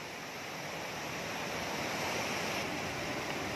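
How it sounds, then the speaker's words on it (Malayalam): Water overflows across the top of a check dam shutter, producing a soft, even roar of spilling water that is heard faintly and continuously, with no talking. "വെള്ളം നിറഞ്ഞ് കവിഞ്ഞ് ഷട്ടറിൻ്റെ മുകളിൽ കൂടെ പോകുന്ന ഒരു കാഴ്ചയാണിത്"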